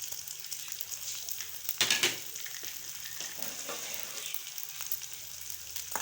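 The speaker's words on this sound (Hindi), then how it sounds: "और अब इसको भी भून लेंगे" Onion and tomato frying in a pan for chicken kachori filling, a steady close sizzle with a brief louder burst of stirring near the start, no voices.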